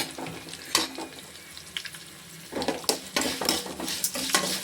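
Green chili, ginger and cashews frying in a pan over low heat, a soft sizzle broken by clinks and scrapes of a spoon stirring against metal, close by with no voices.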